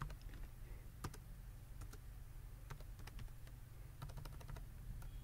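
Quiet, irregular keystrokes tap on a computer keyboard while an admin password is entered, scattered clicks over a low steady hum.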